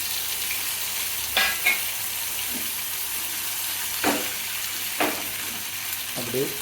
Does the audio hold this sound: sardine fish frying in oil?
yes